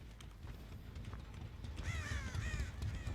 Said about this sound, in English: I saw some crows.